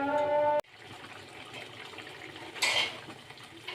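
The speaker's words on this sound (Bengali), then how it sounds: "তারপরে ভালো করে এটা কষিয়ে নেব" Potatoes with coconut paste are sautéed in a pan, with scraping and a sharp clatter of a utensil against the metal over a low, steady background.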